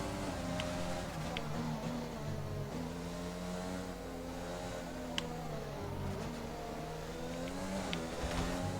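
An F1 race car engine in the F1 2020 video game, on hard tyres in My Team career mode, drones steadily with rising and falling revs as gears shift, a continuous close whine with occasional faint clicks.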